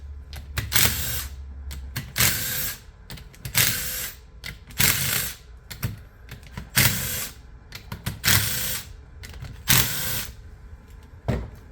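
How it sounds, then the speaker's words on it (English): A hand tool works bolts off the engine head of a GX5 engine, giving repeated short bursts of close ratcheting and clattering metal, about ten spells evenly spaced, with no talking. "So the next thing you can do is just pull or take the bolts off the head first."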